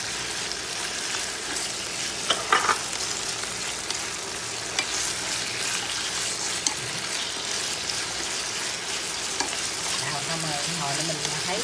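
Beef and jicama stir-frying in a pan, a steady bright sizzle with scraping and stirring noises running throughout, close and fairly loud, with no voices.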